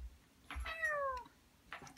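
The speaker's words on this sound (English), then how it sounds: "Oh, that's a cat noise." A cat gives a single drawn-out meow that falls in pitch, close and clear, with faint background noise before and after.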